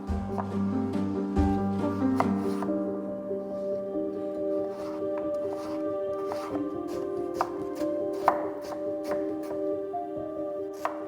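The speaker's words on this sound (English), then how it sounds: "Finally chop the other half of the pumpkin." A knife chopping half a pumpkin on a cutting board in a home kitchen for ramen: quick, irregular close-up thwacks and cuts repeating throughout, with a faint background tone.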